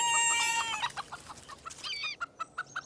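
A backyard cockerel and hens give alarm calls, a long loud rising squawk followed by a string of sharp, rhythmic clucks close by.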